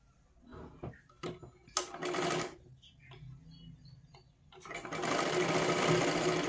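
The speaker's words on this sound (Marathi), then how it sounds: "आणि जॉईन करून घ्या आणि डबल शिलाई मारा" A sewing machine stitches silky fabric for a katori blouse, running in short whirring bursts and then a longer steady run, with a voice talking in between.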